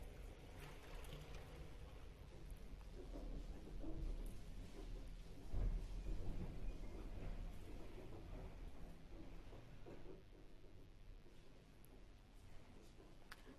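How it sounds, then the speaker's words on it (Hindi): Thunderstorm rumble with a rain-like wash, faint and distant, swelling into a heavier roll midway before easing back, with no voices. "बेटा बहुत भयानक तूफान आया है यहाँ पे।"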